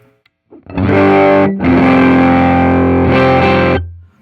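A loud overdriven electric guitar through an Ibanez TS9DX Turbo Tube Screamer pedal plays sustained distorted chords alone, with a brief break near the start of the phrase before ringing on and cutting off.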